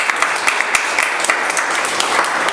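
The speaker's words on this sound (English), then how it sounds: "Let's clap hands for the pastor." A church congregation claps for the pastor, brisk close-up applause with individual hand slaps standing out, fairly loud and short.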